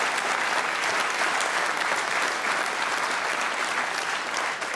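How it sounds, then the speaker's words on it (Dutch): A studio audience at a local dance competition dance-off bursts into loud, sustained applause, a dense, steady roar of clapping and cheering that fills the room throughout. "Applaus voor de omroep"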